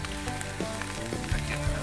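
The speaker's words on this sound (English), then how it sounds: "Sounds like it's sizzling pretty good." T-bone steaks sizzle steadily in a pan on a camp stove at a winter bushcraft camp, a soft, continuous crackling hiss heard close but fairly quiet, with no talking.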